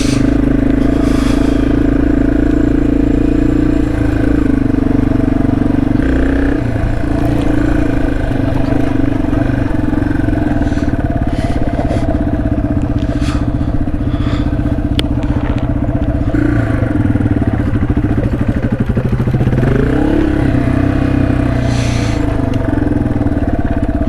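A Yamaha TW200 motorcycle rides a rocky trail near the Snake River in Idaho, its engine droning loud and steady with clattering, thumping impacts from the rough ground throughout.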